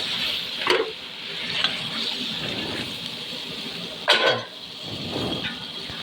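Poppy seed paste is stirred in a frying pan, giving soft repeated scraping strokes over a low, steady sizzle, fairly quiet and close.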